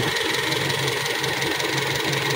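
A Toyota Kijang engine idles steadily and evenly after carburetor tuning, a close, continuous mid-pitched rumble with a regular pulsing beat and no voices over it.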